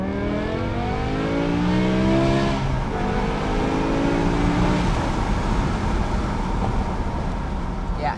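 A 2006 BMW M6 engine revs hard under acceleration toward 8,000 RPM, a smooth rising and falling whine heard from inside the car, loud and continuous throughout.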